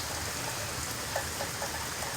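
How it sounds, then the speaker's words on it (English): Rain running and dripping off houses, a nearby building and trees after a storm, a constant wash of falling water with a few distinct drips close by. "It's coming off the houses, off that building out there, off all the trees."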